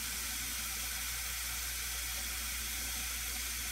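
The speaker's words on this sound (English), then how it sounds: "I'm gonna start with adding water to the reservoir, going down this pipe into the 1 gallon jug." Water poured down a pipe into a one-gallon jug reservoir of a self-watering bucket system for cucumbers, a steady broadband rush of flowing water lasting throughout, fairly soft and with no talking.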